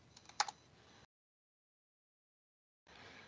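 Typing on a computer keyboard: a short burst of quick key clicks with one sharper tap, then a stretch of silence before another brief run of close, soft keystrokes.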